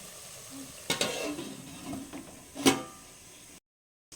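Onion and green chilli fry for a village country chicken curry with a soft, low sizzle, broken by a few sharp metallic knocks and scrapes of a utensil against the pot.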